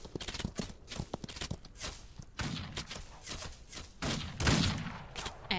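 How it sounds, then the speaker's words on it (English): Bursts of gunfire from bandits in a Western video game, in rapid, irregular volleys of overlapping shots, with scattered footstep-like thuds between them. "Oh, they're all shooting."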